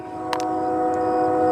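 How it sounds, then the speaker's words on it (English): A train rumbles steadily nearby with a sustained horn tone droning over it, loud and growing slightly louder, with a couple of brief clanks early on. "There's always a train."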